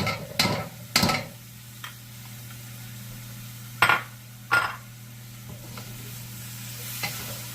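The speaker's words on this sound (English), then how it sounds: "we're going to give that a good stir" Sauce is stirred into edamame in a pan: a handful of sharp clinks and scrapes from a utensil stand out over a faint sizzle and a steady low hum.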